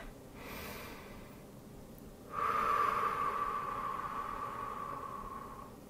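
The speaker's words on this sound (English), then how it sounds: "Taking some nice deep breaths." Slow, deep human breathing close to the microphone: a soft airy inhale, then a longer, louder breathy exhale that holds steady and fades over several seconds, against quiet background hiss.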